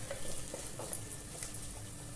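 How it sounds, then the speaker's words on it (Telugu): Masala frying in a pan while being stirred for a sea fish curry, a quiet, steady sizzle with soft scraping, no voices. "ఈ మసాలా వేసిన తర్వాత ఒక్క నిమిషం అంతా కలుపుతూ వేపుకోండి"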